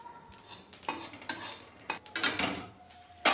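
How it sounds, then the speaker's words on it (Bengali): A metal wok is set back on a hot stove after spices are removed, giving a few clattering knocks and scrapes of metal against metal with a faint sizzle between them. "মশলাটাকে নামিয়ে রাখলাম, কড়াইটাকে আবার বসিয়ে দিলাম।"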